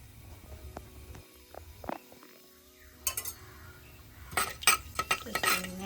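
Fenugreek seeds frying in hot oil in a pan for fish curry, stirred with a utensil: quiet clinks and scrapes of metal on the pan, with a louder burst of scraping and rattling toward the end.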